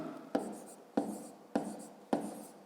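Four firm handwritten strokes, likely chalk or pen, during a fifth-grade math lesson, sounding as evenly spaced scratching taps about half a second apart, close and moderately loud with no talking.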